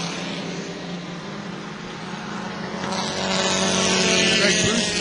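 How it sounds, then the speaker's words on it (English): Four-cylinder bomber race cars roar around New Smyrna Speedway, a dense, steady engine drone that swells louder partway through as the pack passes close, without easing off through the turns. "there's one advantage to running these little 4-cylinder cars here, that you don't have to let up in the turns"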